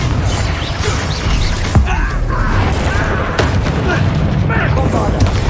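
Confringo fire spell blasts in Hogwarts Legacy combat, a few booming impacts and crackling bursts amid clanking game effects, loud and close, with a voice speaking over the action.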